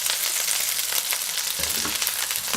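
Mushrooms frying in a pan for a creamy pork spaghetti, giving a loud, continuous close-up sizzle with light crackle and a soft stir near the middle.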